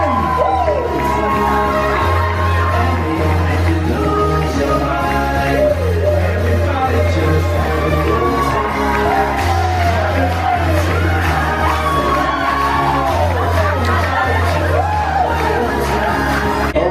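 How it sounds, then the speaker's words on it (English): Wedding reception guests cheering and whooping for the groomsmen as loud music with a heavy beat plays, crowd shouts rising over the sustained, dense mix throughout. "Round of applause, ladies and gentlemen."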